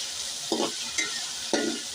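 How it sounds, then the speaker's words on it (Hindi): Ginger garlic paste frying in a pot, a steady close sizzle broken by three distinct scraping stirs of a spoon against the metal, no talking. "भून लेंगे, और जो अदरक और लहसुन का जो है ना वो कच्चापन ताकि वो ख़त्म हो जाए"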